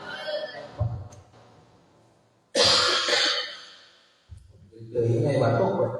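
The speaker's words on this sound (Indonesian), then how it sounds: "Ini batuk Pak." A man coughs and clears his throat in a small room during an Islamic grammar lesson, with a few harsh, rasping bursts close to the microphone and short quiet gaps between them.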